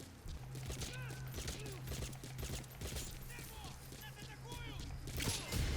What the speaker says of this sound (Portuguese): vamos atirar em algumas pessoas